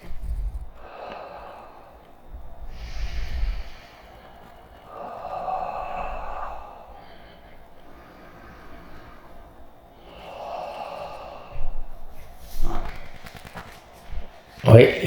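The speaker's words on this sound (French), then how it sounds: "on a une respiration en 4 temps" Slow, deliberate breaths in a breathing exercise: audible inhales and exhales come in several paced cycles, close and soft, with rustling and movement toward the end.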